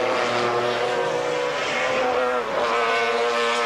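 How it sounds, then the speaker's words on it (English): GT race cars, a Lotus among them, racing through the Craner curves at Donington in the 1995 BPR Global GT Series, their engines howling loud and sustained as they pass close, with shifting pitch. "this fight for the lead of the GT2 category with Zanardi's Lotus now tagging on behind"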